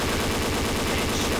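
Full-auto AK-47 gunfire in the Combat Arms video game, a dense continuous burst of rapid shots at steady loudness that fills the whole stretch with no pauses.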